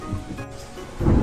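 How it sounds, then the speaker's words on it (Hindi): Thunder rumbles low and heavy over steady rainfall in a cartoon story scene, with a deep roll swelling louder near the end. "अचानक बारिश हो ही गई"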